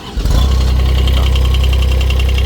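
The diesel engine of a 2021 Kubota 1.7-ton machine turns over and settles into a steady, loud idle, a low throbbing rumble that runs unbroken to the end.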